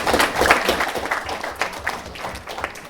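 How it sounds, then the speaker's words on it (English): Wedding guests applauding the bridesmaids during a best man speech, a loud, dense burst of clapping that keeps going close by and slowly tapers toward the end. "we can give a round of applause"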